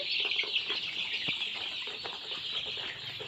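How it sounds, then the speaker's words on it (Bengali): Layer hen chicks on a farm produce a constant faint high chirping chorus, with occasional soft fluttering and light scuffles underneath. No one speaks. "এই দেখুন আমার লেয়ার মুরগির বাচ্চাগুলো"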